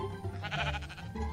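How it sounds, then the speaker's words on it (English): A sheep in the Minecraft SevTech modpack gives a short, wavering bleat, faint and close, heard alone without any talk. "Oh, it's a sheep."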